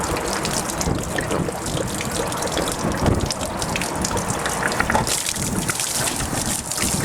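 Water drains from a boat through an opened drain plug valve, a steady, close rushing gush that runs the whole time without pause.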